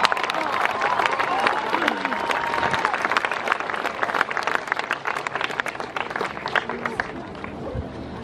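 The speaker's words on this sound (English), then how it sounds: "so applause to you." An audience at a graduation ceremony gives sustained applause for the graduating valedictorian class, dense clapping with light crowd murmur throughout.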